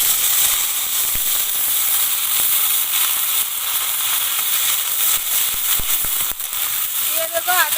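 Onion paste hitting a hot pan for a Bengali egg and potato curry, with dried chilli, bay leaf and a little sugar already in, gives a steady broadband sizzle that runs throughout, with a few sharp crackles and pops.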